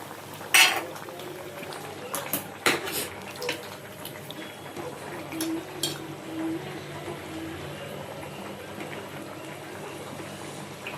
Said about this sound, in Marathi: आणि आता थोडा वेळ आंबा शिजेपर्यंत शिजवू दे